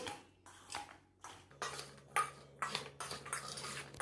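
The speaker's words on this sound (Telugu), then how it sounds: "మనం వేసుకున్న పళ్ళు ముక్కలకు పట్టే విధంగా ఒకసారి మొత్తం మిక్స్ చేసేసుకోవాలి" Okra pieces being mixed with salt, turmeric, chili powder and coriander powder for bendi fry, giving repeated clinks and scrapes of a spoon against a metal bowl in short irregular bursts, close and alone.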